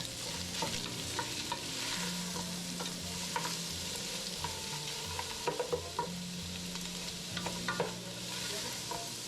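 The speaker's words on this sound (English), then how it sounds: "I then now added a little oil, onions, and I stir them together." Onions sizzle in hot oil in a pan while being stirred, a continuous frying hiss broken by scraping and clacking strokes of the utensil, close and fairly loud.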